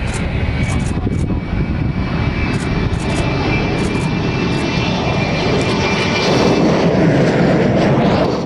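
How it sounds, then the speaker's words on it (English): Stratus 716X single-engine very light jet from a small Redmond, Oregon company in flight, a loud, steady, broadband jet roar that holds constant throughout with a faint high whine on top. "new entry in the single-engine jet category has flown for the first time."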